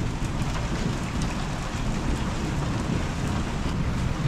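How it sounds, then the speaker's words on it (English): Steady rain falling outside a garage, a dense continuous hiss and patter at even loudness throughout, with no voices. "We can't work because of the rain."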